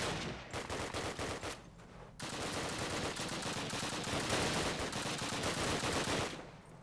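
Sustained automatic gunfire in Call of Duty 1, loud rapid bursts of shots in close succession with a couple of brief pauses before the firing dies away at the end.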